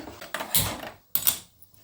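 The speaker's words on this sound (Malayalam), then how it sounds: "ഞാൻ അടുപ്പൊന്ന് കത്തിക്കാൻ പോവുകയാണ്" A home cooking stove is lit while pumpkin payasam is being made, giving two short, close mechanical click-and-rush bursts separated by a brief silence.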